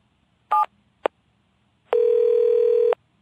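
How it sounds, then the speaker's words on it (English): A home number dialed on a telephone: two short tone beeps half a second apart, a pause, then a single steady tone held for about a second, clean and close with no talk. "Mr. Williams picked up the phone and dialed his home number."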